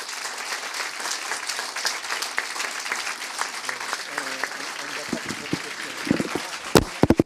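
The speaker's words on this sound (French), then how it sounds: "les applaudissements que vous avez produits pour Cyril" Sustained crowd applause follows a speech at an association's tenth-anniversary conference, steady rapid clapping with voices mixed in and a few sharper, louder claps near the end.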